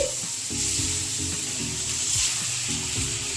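Mutton fat fries in a pan before lentils go in for dal, with a loud, constant close sizzle and crackle and a few low stirring knocks underneath; no voices.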